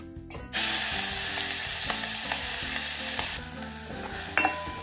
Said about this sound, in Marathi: आता हिंग टाकू थोडंसं आणि आपण जी भाजलेल्या मिरचीची पेस्ट केली होती ती पेस्ट टाकून घेऊ।